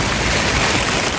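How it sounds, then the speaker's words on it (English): Rain falls on a greenhouse in wild weather, a steady dense hiss of drops pattering across the roof, close and continuous with no talk. "now it's starting to rain"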